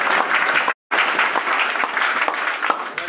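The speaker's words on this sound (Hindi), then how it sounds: "तालियां" Loud, dense applause from an audience at a community jayanti gathering honouring Savitribai Phule and Jaipal Munda; steady clapping fills the whole stretch, broken only by a very brief dropout near the start.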